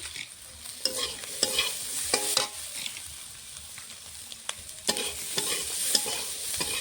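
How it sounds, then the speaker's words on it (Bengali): Peas, carrots and onions fry together in a pan for a mixed-vegetable semolina dish, giving a soft, continuous sizzle broken by sharp scrapes and taps of a stirring spoon, close and with no voices. "মটরশুঁটি গাজর পেঁয়াজ একসঙ্গে সব ভাজা হয়ে গেছে"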